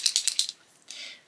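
A white Posca paint pen with a loose lid shaken by hand: a quick burst of four or five sharp rattling clicks, a brief pause, then a softer, longer rattle, close and alone.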